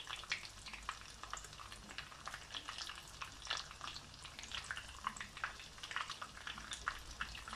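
Swordfish pieces fry in a pan over medium heat, a quiet, soft crackling sizzle with scattered small pops and spits, faint and steady throughout.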